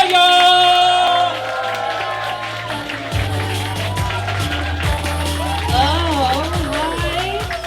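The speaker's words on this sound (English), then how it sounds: "Start clapping right now." A stand-up comedy club audience at Union Hall in New York claps and cheers, a crowd roar with whoops that softens as music plays and voices shout over it.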